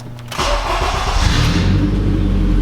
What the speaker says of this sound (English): All right, fire it up again.